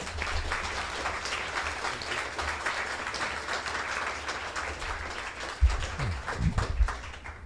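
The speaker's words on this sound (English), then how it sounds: "Let's give David another round of applause" Audience applause after an architecture lecture: steady, moderate clapping from a seated crowd, fairly distant and even, with a few louder bumps near the end as it winds down.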